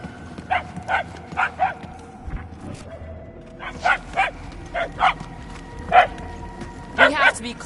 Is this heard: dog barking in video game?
yes